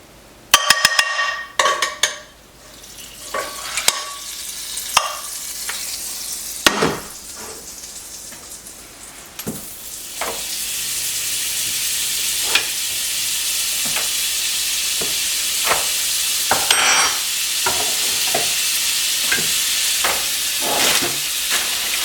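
Rehydrated freeze-dried hamburger patties fry in a pan, a steady hiss and sizzle that swells louder partway through, broken by sharp clinks and scrapes of a utensil against the pan.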